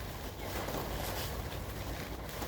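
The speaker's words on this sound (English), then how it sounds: "That's with about 35-mile-an-hour wind gust." Wind gusts of about 35 mph buffet a DIY cattle panel greenhouse, making a constant roaring rush of air with slight surges throughout and no one speaking.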